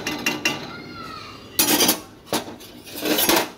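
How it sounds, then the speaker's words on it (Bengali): Boiled peas being stirred into fried spices in a pot for ghugni, the utensil scraping and clanking against the pot in several sharp bursts with quieter stretches between. "মশলা কষানোর পর সিদ্ধ করা মটরগুলো দেওয়ার পর এবার একটু নাড়াচাড়া করে নেব"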